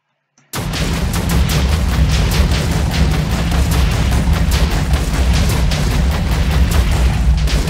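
Continuous loud automatic fire from an UZI in a Minecraft weapons mod, starting abruptly after a brief silence and running dense and booming for the whole stretch.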